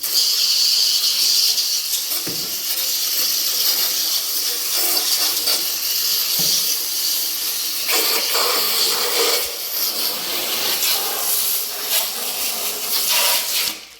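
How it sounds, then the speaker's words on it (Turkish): Pressurized water sprays across an ice machine during cleaning, a loud, steady, close hiss that runs throughout with slight shifts in intensity. "Bu şekilde tazik suyla yıkıyoruz."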